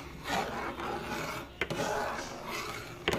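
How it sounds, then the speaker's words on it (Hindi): A spoon stirring sweet vermicelli cooking in milk in a pot over low heat, soft repeated scraping and rubbing strokes with two sharper knocks against the pot, close and fairly quiet. "ये देखें, हम चलाते जा रहे हैं चम्मच"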